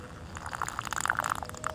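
Water is poured onto a Toyota Highlander near a clogged sunroof drain, a close, uneven splashing and trickling pour that grows busier, with bright droplet patters over a soft wash.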